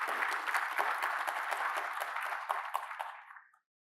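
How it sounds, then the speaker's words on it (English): An audience breaks into sustained applause at a formal welcome event for a university research hub, a dense wash of many clapping hands that holds steady for about three seconds before tapering off quickly. "I think we should give him a round of applause."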